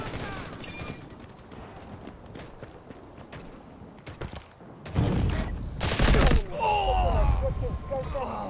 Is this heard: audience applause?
no